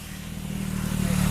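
A motorcycle engine revs with a steady harmonic drone that grows louder over a second or so, close by and without voices.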